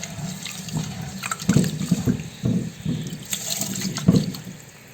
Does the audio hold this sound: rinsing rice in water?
yes